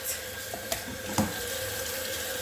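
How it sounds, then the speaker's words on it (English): Nama J2 juicer parts being rinsed under a running kitchen tap, a steady close rush of water with a few brief clunks as the parts are handled. "Then you can rinse all of this."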